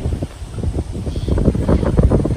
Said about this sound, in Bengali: আজকে বাতাসটা অনেক বেশি